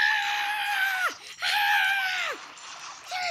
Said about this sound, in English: I wanna scream!